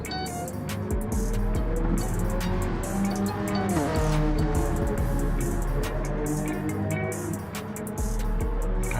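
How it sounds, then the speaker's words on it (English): Honda NSX race car in GT Sport at the Maggiore circuit, its engine loud and continuous with shifting revs, tire squeal and skidding mixed among other cars racing nearby. "God, that NSX is a noisy car."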